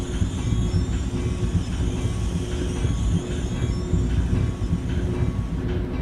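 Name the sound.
video game train pulling into station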